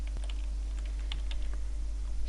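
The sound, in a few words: typing on a computer keyboard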